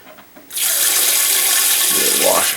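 A bidet spray switched to waterfall mode bursts on suddenly and runs as a loud, steady hiss of falling water into a toilet bowl, close by, for about two seconds.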